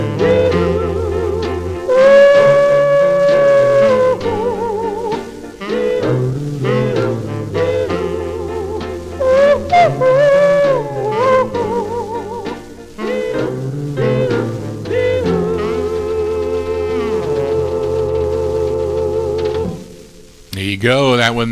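A 1956 doo-wop R&B record plays steadily, with sustained vocal harmonies and a band underneath, loud and continuous with no talk over it.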